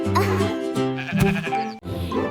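A sheep-like bleat runs through a sung melody with backing music, the voice wavering and nasal.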